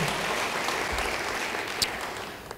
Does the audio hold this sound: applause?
yes